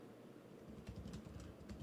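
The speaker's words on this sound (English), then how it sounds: "I was typing that right now." Someone types on a computer keyboard, a soft run of quick key clicks under a steady background hum, with no voices.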